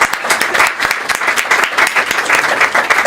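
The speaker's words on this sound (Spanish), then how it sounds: "sí, es para aplaudir" Audience applause at a presentation on didactics and technology, a loud, dense burst of clapping from the room that stays strong and continuous throughout.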